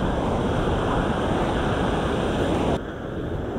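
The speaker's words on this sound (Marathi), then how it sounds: "हे लाट आहेत ना खूप जोरात आणि खूप उंच लाट येत आहे यार. बघ ना कसं आदळतं ते." High, powerful ocean waves crash on a Kerala beach in a loud, continuous roar of surf with strong wind buffeting, easing slightly near the end.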